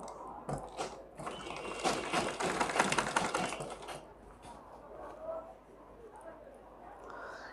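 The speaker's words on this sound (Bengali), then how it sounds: "এটাকে আস্তে আস্তে সুন্দর করে ধরে সেলাই করে দিব দেখেন এই যে সদর পাশ থেকে সেলাইটা করব" A sewing machine runs in quick rattling bursts while stitching a trouser-style pajama, close and steady for a few seconds before easing off, with a voice talking quietly underneath.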